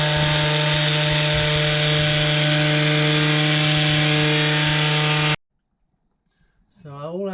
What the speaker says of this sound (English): This is a wet and dry electrical sander